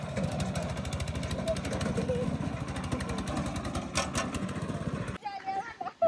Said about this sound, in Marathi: माऊलीला लय आवडतं ट्रॅक्टर चालवायला